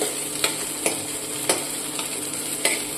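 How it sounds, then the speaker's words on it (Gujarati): Corn soup ingredients sautéing in a pan, a steady close sizzle broken by regular light scrapes of a spoon stirring, roughly every half second, with no talking. "અને આપણે એક મિનિટ માટે સાતરીશું"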